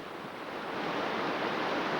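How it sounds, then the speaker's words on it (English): Cool water rushing and cascading down the rocks of a large waterfall at the foot of a hill in Iran, a steady close-up roar of broad, hissing noise with no voices. "Rushing down from the top is a cascade of cool,"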